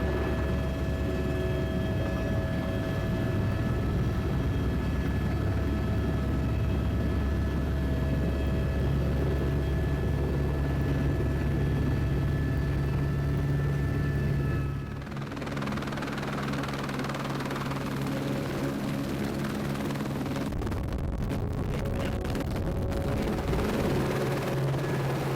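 A helicopter ferrying a salmon crew over roadless wilderness gives a loud, steady engine and rotor drone heard from close by, then shifts to a rougher whine and buffeting partway through.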